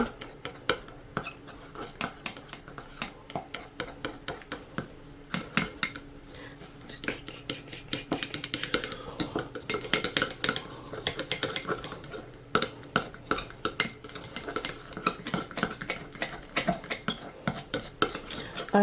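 Texture paste is stirred and scraped in a container for a craft frame project, giving a continuous run of close clicking, tapping and scraping knocks with an uneven rhythm and no speech.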